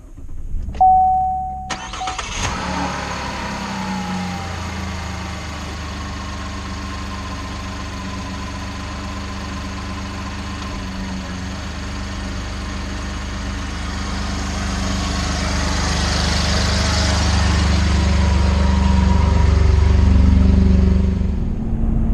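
A starter cranks briefly before a Chevrolet Colorado Z71 pickup truck engine catches and runs at a steady idle, the rumble growing louder near the end.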